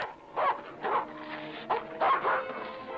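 A dog gives a series of short yelps and whimpering whines in a film scene, about five close, moderately loud bursts with no talk.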